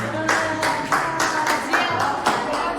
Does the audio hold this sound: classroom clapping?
yes